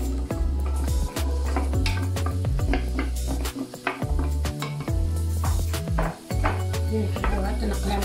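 Chopped carrots stirred in a large pot of olive oil, with steady sizzling, frying and repeated scraping and clinking of a utensil against the pot, close and continuous with no talk.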